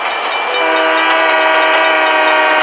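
Train horn at a level crossing in the Trainz Simulator game sounds loud and close, a single sustained blast that holds steady for nearly three seconds.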